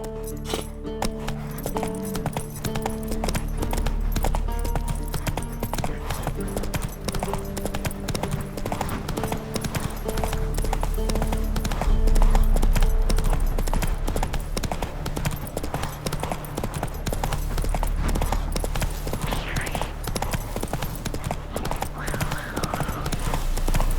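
A horse gallops in The Witcher 3 video game, rapid rhythmic hoofbeats clip-clopping steadily and close for the whole stretch, with tack jingling faintly over a low music bed.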